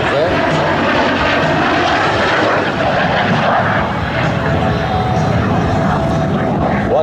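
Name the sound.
airshow plane engine during double aileron rolls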